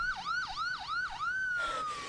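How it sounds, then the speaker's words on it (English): A wailing ambulance siren sweeps up and down in repeated cycles, then holds a longer rising tone, sounding moderately distant with no voices over it. "She heard the ambulance coming in the distance"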